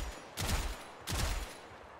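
Two close, loud bursts from a Gotva Prime rifle in the Warframe video game, each a short rattling volley with a booming low end, separated by about half a second of quiet.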